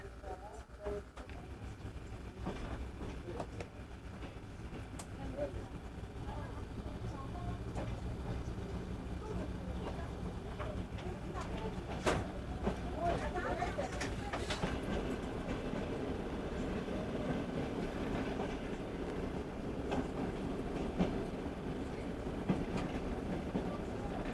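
A train in Mongolia rumbles steadily along the rails with rhythmic clicks and clatter, heard from inside a carriage, with faint voices now and then.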